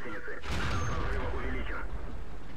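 Panzer IV tank firing its cannon in World of Tanks, one sharp booming shot followed by a rumbling decay, over a constant battle hum with a voice speaking.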